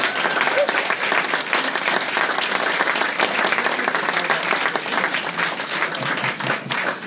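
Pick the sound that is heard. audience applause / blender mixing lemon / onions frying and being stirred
audience applause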